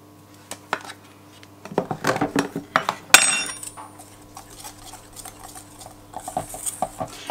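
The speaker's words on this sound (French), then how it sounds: "Donc 80 grammes de farine et 40 grammes de maïzena. Et on mélange aussi." Flour and cornstarch stirred in a bowl for a cake, with scattered scraping and clinking of a utensil against the bowl, busiest in the middle and near the end, close and fairly loud.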